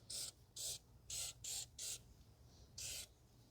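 Anti-rust aerosol sprayed onto the wheel hub of a 2017 Toyota Corolla 1.8 during a rear drum brake service, heard as six short, close hissing bursts in an uneven rhythm, with a faint low hum underneath.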